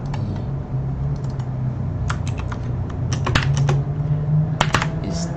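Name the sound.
typing on a computer keyboard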